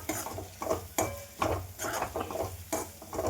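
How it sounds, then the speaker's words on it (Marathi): Spoon stirring a sodwang mixture in a metal pan, with repeated scraping strokes and soft sizzling at a steady rhythm, close and fairly quiet, no talking. "त्याला छान मिक्स करून घ्यायचं।"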